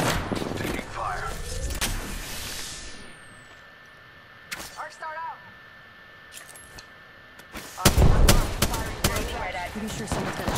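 Scattered gunfire in the battle royale shooter Apex Legends: sharp isolated shots and short bursts, some near and loud, others fainter, separated by quieter stretches with metallic clicks and whooshes.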